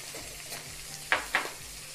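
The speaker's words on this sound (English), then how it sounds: "saute it well. The color of the coconut is turning brown." Coconut being sautéed in a pan for brinjal masala gives off a soft, steady sizzle, broken by two brief, sharper stirring scrapes near the middle.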